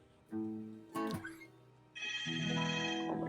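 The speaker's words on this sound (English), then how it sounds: "Somebody answer the phone." Telephone rings in short harmonic bursts, then settles into a sustained tonal ring, fairly loud and near, with no talking over it.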